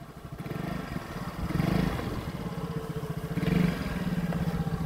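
A motorcycle engine runs steadily near the mic as a beginner rider eases the throttle gently, the low rumble swelling slightly twice with light rattle on top and no speech.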